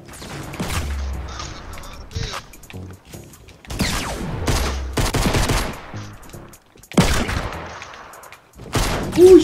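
Gunfire in the video game Fortnite comes in several loud automatic bursts with gaps between them, mixed with other game effects.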